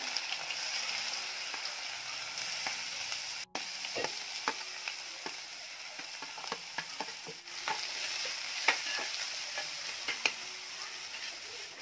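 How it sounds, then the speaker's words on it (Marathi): Finely chopped onions fry in hot oil for a dried bombil chutney, a constant close sizzle broken by scattered clicks and scrapes of stirring, with no voices. "तेल चांगलं गरम झालं की तेलामध्ये कांदा घालायचा."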